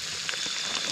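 Food sizzling in a pan at a camp cookout, a steady close frying hiss with faint crackles throughout and no talk.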